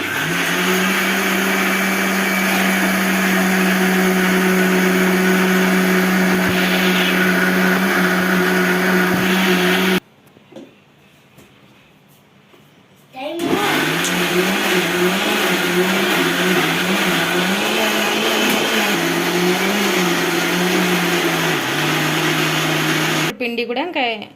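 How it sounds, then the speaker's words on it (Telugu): A mixer grinder whirs loudly and steadily grinding soybean and urad dal idli batter, cuts off for a few seconds, then starts again with a wavering motor pitch; a voice speaks faintly underneath. "వేసేసుకొని మిక్సీ పట్టేస్తారు ఇప్పుడు"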